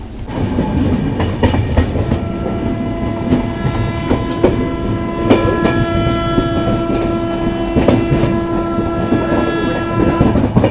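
A Garib Rath Express train rolls into Gadarwara station. It makes a loud, steady rumble with rhythmic wheel clatter and squealing tonal hum throughout, close by, with no talking.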